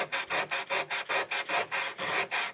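Hand sanding across a curved car door panel makes steady rhythmic rasping strokes, about ten even back-and-forth passes, close and moderately quiet with no talk.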